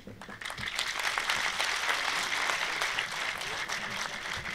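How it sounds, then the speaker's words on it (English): An audience at a speech applauds with sustained, dense clapping that holds steady for several seconds. "please applaud with full vigor"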